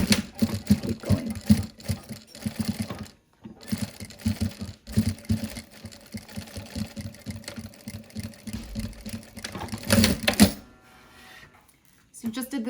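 A sewing machine stitches the seam of a fabric face mask in short mechanical bursts, clearly heard alongside someone talking through the steps.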